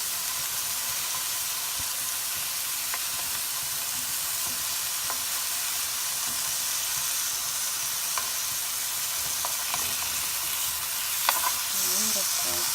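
Salmon fillets for a spicy coriander dish sizzle steadily in a pan after being flipped over moderate heat, a dense continuous hiss with a few faint utensil clicks near the end.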